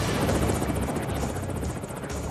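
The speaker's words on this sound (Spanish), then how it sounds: "se monta en un helicóptero para hacer un vuelo de prueba en la base Edwards de la Fuerza Aérea en California" A helicopter makes a test flight at Edwards Air Force Base in California carrying a high-frequency landing radar for a Mars rover, its rotor giving a loud, steady, rapid chopping drone.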